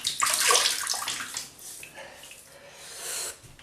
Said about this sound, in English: So just wet my face again,